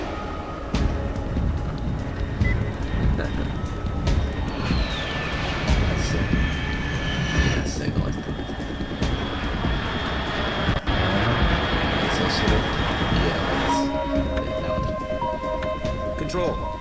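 A fast aircraft passes at high altitude in the Metal Gear Solid 3 video game, a sustained jet roar with a sweeping whine, mixed with music and game sounds.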